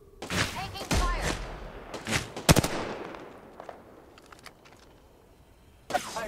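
Gunfire in the video game Apex Legends: several loud bursts and single shots with thumping impacts, clustered early and fading, with another burst near the end and a voice speaking over part of it.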